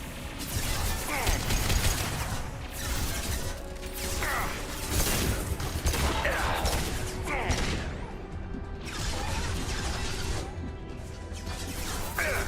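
Hacked turret opening fire in the sci-fi video game Mass Effect 2, loud sustained automatic gunfire with repeated impact bursts and mechanical clatter throughout, no talk over it.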